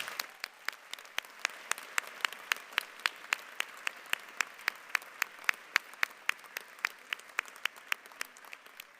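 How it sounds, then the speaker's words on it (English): Audience at a university humanities and social sciences graduation ceremony gives a round of applause, distinct rhythmic claps standing out over a softer bed of clapping, fairly quiet and distant, steady for the whole stretch. "let us give a round of applause to those who have given you their love and support"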